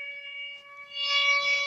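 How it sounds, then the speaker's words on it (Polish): A steady, wailing air raid siren drones in the distance across the Bug River border, its pitch holding level with a slight swell. "słychać syreny z drugiej strony"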